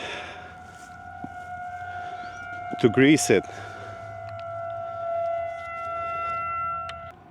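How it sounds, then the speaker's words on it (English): Outdoor warning sirens at their Wednesday noon test give a brief, loud rising wail amid steady tonal hum and background noise, with a person speaking over it. "Those are the sirens, because it's Wednesday and it's noon."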